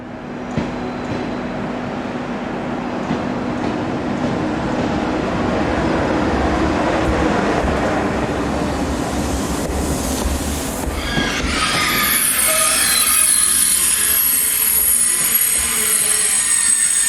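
A train rolls steadily through Valenciennes station in northern France, a busy stop served by TGVs to Paris, with a continuous rumbling roar of wheels on rails, building toward the end as high-pitched wheel squeal rises over the noise.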